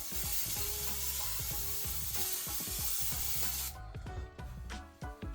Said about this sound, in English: You're gonna want some non-stick cooking spray. Go ahead and coat the bottom of your tray